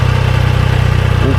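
A Triumph Daytona 660 motorcycle idles close by, a steady, loud, low rhythmic thrum with an even pulse throughout the short stretch.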